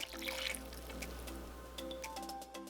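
A paper cup pours water into a pot holding dried pollock and minced garlic, making a short, close splashing trickle over soft background music.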